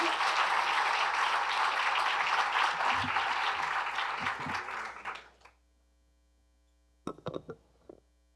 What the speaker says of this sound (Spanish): Recibamos con un fuerte aplauso a Guillermo Chapman.